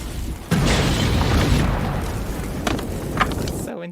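A loud explosion from the Chuck Norris film Forest Warrior: a sharp blast at about half a second, then a sustained roaring rumble and debris noise lasting several seconds before cutting off abruptly.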